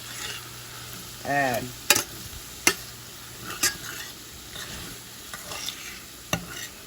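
Flour frying with strained-off hamburger grease in a pan, stirred for gravy: soft sizzling with a few sharp scrapes and clicks of a utensil against the pan, fairly quiet, no talking.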